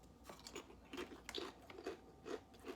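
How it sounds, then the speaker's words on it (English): Kettle-cooked, basil-flavored potato chips crunch with several quiet, close bites and chews in an irregular rhythm, with no talking. "Kettle cooked, nice crunch."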